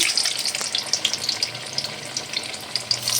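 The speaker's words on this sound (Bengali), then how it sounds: "আর দ্বিতীয় ভেজে ভাজার জন্য ছেড়ে দিচ্ছি।" Pithe puli dumplings frying in hot oil over medium-low heat for a Poush Sankranti festival, a close bubbling sizzle with frequent small crackles and pops.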